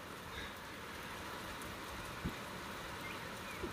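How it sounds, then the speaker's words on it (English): Heavy rain pours steadily outdoors during a walk to a field, a faint, even hiss with a couple of soft thumps, and no voices. "Don't think we've seen as much rain as this in quite a while, actually."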